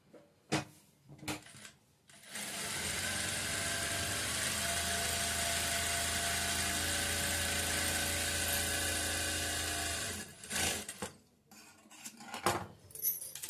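A sewing machine runs in one steady, continuous burst of about eight seconds while stitching a work blouse, with brief handling clicks and rustles before and after and no talking.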